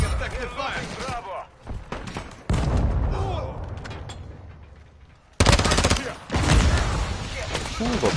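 Automatic gunfire in a military video game shooter, with loud rapid bursts that start and stop abruptly among quieter stretches of rattling fire, while voices talk over parts of the action.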